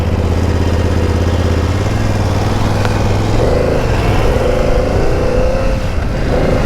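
A BMW F 900 GS motorcycle engine drones steadily while riding, a continuous near hum with a low rumble and wind noise and a slight pitch rise toward the end.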